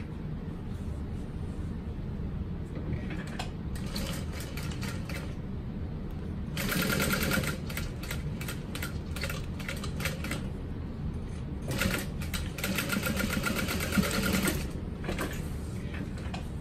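A sewing machine top stitches a crossbody bag in a few bursts of rapid, even needle clatter, near and moderately loud, separated by quiet pauses.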